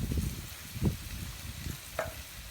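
Chopped red sweet pepper dropping into onions in a small Dutch oven, with a soft hiss of frying and a few stirring scrapes and knocks, close and moderately loud, no talking.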